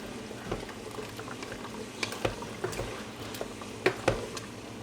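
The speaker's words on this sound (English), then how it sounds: "decided to crank up the heat because I realized that I needed the liquid to boil faster and I needed it to thicken" Tteokbokki liquid boils in a pot over high heat, giving a steady low bubbling with scattered pops and sharp little ticks, some stronger bursts near the end, and no voices.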